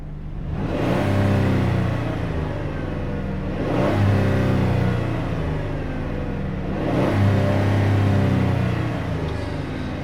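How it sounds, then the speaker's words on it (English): A 2010 Chrysler Town & Country minivan engine revs up three times in steady succession, each rise swelling to a loud mid-range roar before falling back to a rumbling idle, heard close with no talk. "Rev the engine a couple times for you."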